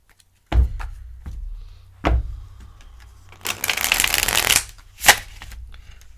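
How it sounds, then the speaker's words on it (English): Tarot cards riffle-shuffled by hand, a new deck, in bursts: two sharp taps near the start, then a long dense riffle and a final snap, close and fairly loud with no talk. "Ooh, that was maybe a little rough on my shuffling there."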